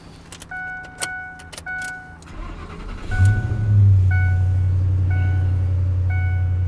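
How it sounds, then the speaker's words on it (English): A 2005 Ford F-150 pickup truck engine cranks and catches, then settles into a loud, steady idle. Before it starts, a few clicks and a repeating electronic chime can be heard. "Start it up and see if we have a runner."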